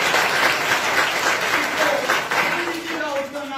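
A church audience at a Hindi Christmas sermon claps in steady, dense applause that holds loud throughout, with a faint voice briefly surfacing near the end.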